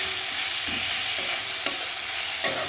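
Chicken sizzles steadily in a hot pan as plain chili powder is stirred in for chicken Mohini, a constant close frying hiss with a few soft scrapes of the spoon and no talking.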